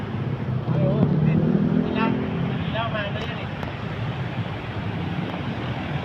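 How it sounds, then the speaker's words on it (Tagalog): A motorcycle being ridden outdoors, its steady engine and rushing wind noise running loud and continuous throughout, with someone talking over it. "gamit ko yung motor ni Brother Pete kasi may bago kaming motor na pinahiram sa kanya"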